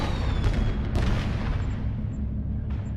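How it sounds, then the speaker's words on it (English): Fireworks emote going off in the video game Star Trek Online, a steady rumbling roar of bursts with sharp crackling pops at intervals, loud and continuous with no talk. "I have a fireworks emote here I can use in cyberspace."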